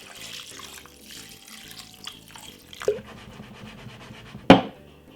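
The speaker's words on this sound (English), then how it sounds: "we're going to put some water inside of the pot like this." Water trickles and splashes as it is poured into a pot of basmati rice, a soft running flow ending in a brief louder splash, heard up close.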